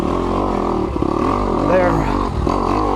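Kawasaki KX250X dirt bike engine idling and revving unevenly as the clutch is feathered, a steady close drone with rising and falling pitch.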